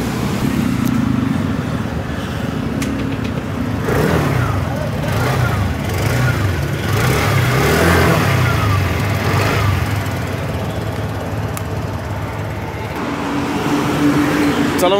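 A 2024 TVS Jupiter 113 scooter engine idles and runs with a steady low hum that swells slightly mid-way, heard close and loud, with someone talking over it at times.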